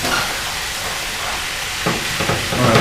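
Vegetables sautéing in a hot pan give a steady broadband sizzle, with a few louder bursts of frying and stirring toward the end.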